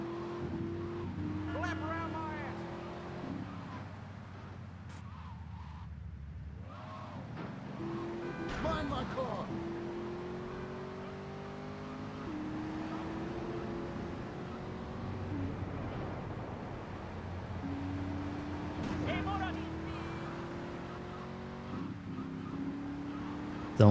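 A car engine in GTA III drones through a tunnel, with repeated rising revs and gear shifts echoing under steady talk.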